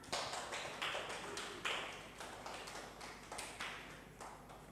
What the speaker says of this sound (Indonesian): berikan aplaus untuk temannya